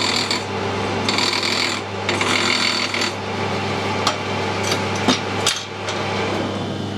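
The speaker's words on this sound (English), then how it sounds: "using the file left-handed is a lot safer than using the file right-handed in the lathe" A hand file rasps against a copper workpiece spinning in a lathe, with repeated close scraping strokes over the steady hum of the machine and a few sharp knocks, no talk.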